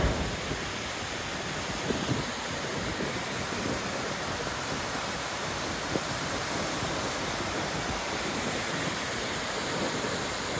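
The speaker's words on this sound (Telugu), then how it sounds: "స్నో మెల్ట్ అంతా ఉండటం వల్ల ఇంత స్ట్రాంగ్ కరెంట్ ఇదంతా వస్తుంది ఇక్కడ" Yosemite Falls, swollen with snowmelt, roars as a constant dense rush of falling water, loud and unbroken throughout with no voices over it.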